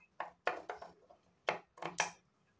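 Scissors snip off excess fabric from a lined katori blouse, five or six crisp, close cuts in quick, uneven succession with short pauses between.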